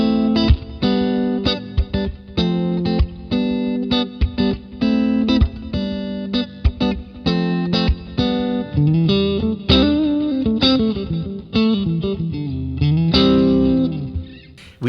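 Electric guitar on single-coil pickups through a ToneX amp model, strummed chords and picked riffs with light grit and chorus-like modulation, steady rhythmic playing up close without any talking.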